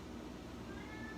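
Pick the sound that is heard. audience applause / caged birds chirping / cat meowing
cat meowing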